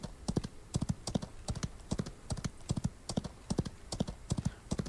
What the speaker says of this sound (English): I love the clippity-clop of freaking horse hooves.